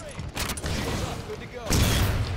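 Weapon fire in the Rock 'n' Rail video game sounds as a couple of sharp blasts amid steady game noise, with a voice speaking over it.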